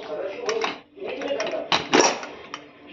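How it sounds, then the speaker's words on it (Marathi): A pressure cooker lid is opened after cooking prawn rice, giving a few metallic clanks and scrapes and a short hiss of released steam, close by in a kitchen. "तर आता मी कुकर उघडते."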